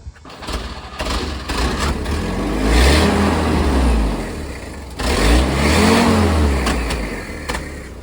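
A Jeep engine runs close by and is revved twice on the throttle, rising and falling in loud sustained swells.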